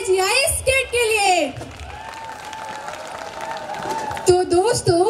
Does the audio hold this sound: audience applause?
yes